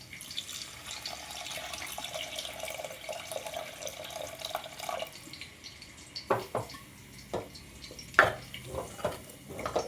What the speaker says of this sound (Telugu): మసాలా పేస్ట్ ఇలా వేగిన తర్వాత ముందే నానబెట్టుకున్న చింతపండును పులుసు తీసుకుని వేసుకోవాలండి